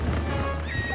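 A horse whinnies in The Legend of Zelda: Twilight Princess, a short neigh over a dense bed of game ambience and low rumble.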